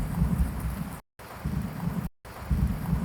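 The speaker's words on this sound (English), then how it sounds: "It adds more rain." Rain and thunder with a deep low rumble under steady hiss, heard in three loud bursts separated by two brief silent gaps.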